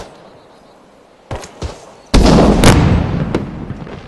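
A grenade blows up in the Arma 3 video game. Two short thumps come first, then one loud, close blast follows, and its broad roar rumbles on and slowly fades.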